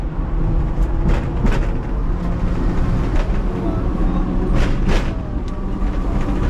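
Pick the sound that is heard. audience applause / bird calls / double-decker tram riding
double-decker tram riding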